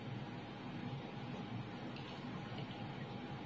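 Water is poured from a glass onto a fake sanitary pad, giving a soft, steady trickle and splash that runs unbroken for a few seconds, heard faintly with no voices.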